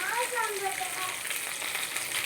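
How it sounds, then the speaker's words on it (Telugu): Dried red chillies crackle in hot oil for temple-style pulihora tamarind rice, a dense, loud sizzle close by that runs without a break for a couple of seconds. "నేను ఎండుమిర్చి కూడా యాడ్ చేసేసాను"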